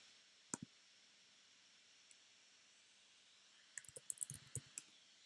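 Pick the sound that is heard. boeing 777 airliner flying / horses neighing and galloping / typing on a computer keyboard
typing on a computer keyboard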